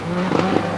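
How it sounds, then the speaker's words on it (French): Walter Röhrl's Audi Quattro rally car, number 2, at the 1986 Monte Carlo Rally on snow, makes a short burst of revving engine with a brief rasp, lasting under a second. "En piste, Walter Röhrl donc sur l'Audi Quattro numéro 2."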